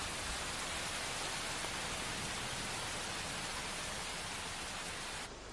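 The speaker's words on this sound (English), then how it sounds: "There are rainy days that drip." Steady rain falling, a dense continuous hiss with no breaks that cuts off abruptly near the end.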